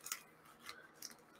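A Star Wars Black Series trading card pack being opened, with a few quiet crinkling, snipping rustles of the wrapper in short bursts, close and soft, with no voices.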